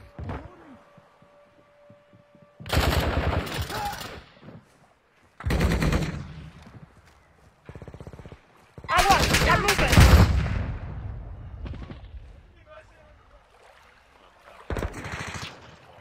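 Gunfire in an online duo shooter game comes in several loud, harsh bursts and volleys separated by near-silent gaps.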